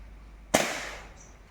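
A toy gun shot bursts a balloon close by in a single sharp pop, snapping loudly and decaying quickly into a short rattling tail, with quiet before and after.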